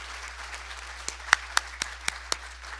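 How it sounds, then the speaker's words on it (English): A small luncheon audience gives scattered applause for a panel, a soft patter of clapping with a few louder, distinct claps standing out near the microphone. "Please give the panel a big round of applause"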